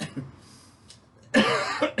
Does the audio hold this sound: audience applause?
no